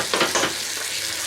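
Masala and onions fry in hot oil while being stirred in a home kitchen, a loud close sizzle with scraping stir strokes over its short length.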